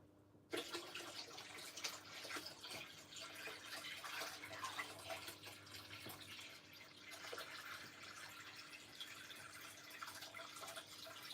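Water treated with conditioner pours steadily into a fish tank, a continuous faint splashing and trickling that runs unbroken from start to end.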